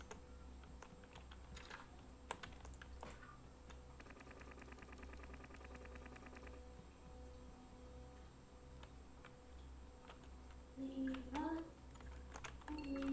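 Faint computer keyboard clatter, with a quick burst of rapid keystrokes in the middle over a low steady hum, and a brief voice-like sound near the end.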